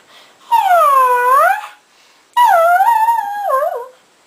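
A person's voice imitates a dog, giving two long, wavering howl-like whimpers separated by a short pause, close and loud against silence.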